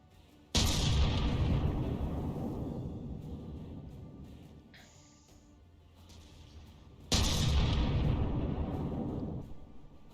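Tank guns fire in the vehicle combat game From The Depths. Two heavy, loud booms land several seconds apart, each rolling into a long rumbling decay, with a faint electronic tone in the lull between them.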